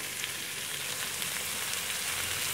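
Ingredients sautéing in a pan, with cooked lentils for a Tamil dish. A continuous close, even sizzle and crackle without talk.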